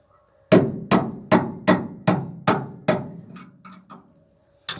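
A hammer beating on a rear leaf spring shackle of a 1995 Chevy, eight loud ringing metallic blows at a steady rhythm close by, followed by a few lighter taps.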